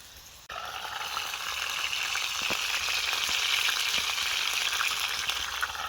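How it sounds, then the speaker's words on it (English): Food sizzles and crackles steadily in olive oil in a pan at a winter campsite, starting abruptly and holding a close, continuous hiss with occasional pops. "olive oil in the pan, so I'm hoping that'll be enough just to cook it"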